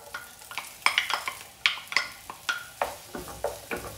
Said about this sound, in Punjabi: ਤੇਲ ਆਪਣਾ ਹੋ ਗਿਆ ਗਰਮ, ਇਹਦੇ ਵਿੱਚ ਪਾਵਾਂਗੇ ਥੋੜ੍ਹਾ ਜਿਹਾ ਪਿਆਜ਼।